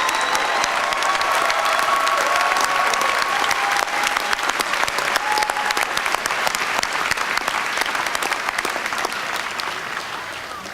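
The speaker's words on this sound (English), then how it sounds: "let's give the graduates a round of applause" Steady, loud applause for graduates at a Virginia Tech NCR commencement ceremony, thick clapping from a large audience that holds for about ten seconds and tapers slightly at the end.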